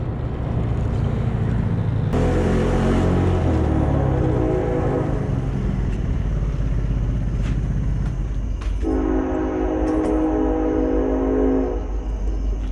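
A train rumbles past close by, its horn blaring in two long blasts over the steady roar of the wheels.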